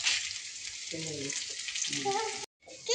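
Ginger frying in hot oil for Pallipalayam chicken gravy, a steady bright sizzle throughout with a few short stirring knocks, cut by a brief gap near the end.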